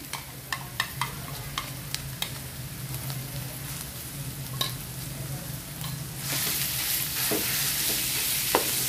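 Ground pork stir-frying in a pan, a steady close sizzle with scattered sharp ticks of a utensil against the pan, the frying growing louder and brighter toward the end.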